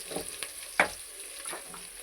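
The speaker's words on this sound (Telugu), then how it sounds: "ఫస్ట్ ఆయిల్ వేసుకోవాలి. తర్వాత ఏమంటే కొద్దిగా ఆనియన్స్ వేసుకోవాలి." Sliced large onion frying in hot oil: a soft, steady sizzle with a few sharp clicks and spatters, fairly faint and close, with no talking.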